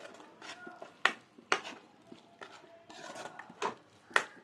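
A spoon stirs chili powder into a tomato masala in a pan for a Telugu-style fish curry with cashews and tomato gravy, giving soft scraping rubs and occasional light clinks against the metal at a quiet, close level.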